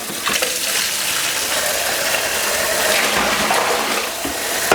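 Hot water gushes steadily from a tap into a plastic fermenting bucket while a spirit wash is being made, a loud, broadband rush that continues unbroken throughout.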